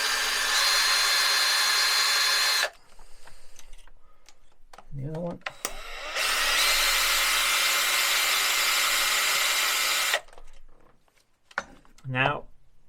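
A power drill bores into the cylinder head of a Jaguar XK engine for a stake-down kit, two long steady whining runs separated by pauses, with someone briefly talking between them.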